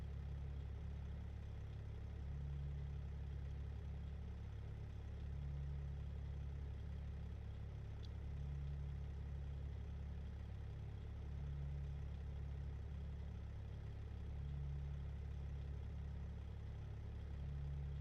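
Heavy truck engine idling in American Truck Simulator, a steady low rumble with a faint rhythmic pulse, continuous and even throughout with no talking.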